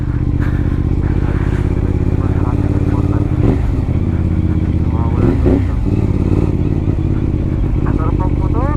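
A motorcycle rides a mountain backroad near vegetable terraces on the way to a lake in Benguet, its engine droning steadily up close with small revs and rattles while the rider talks over it.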